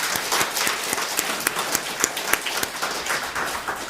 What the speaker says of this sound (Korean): 그럼 그분들에게 박수 한번 보내주십시오.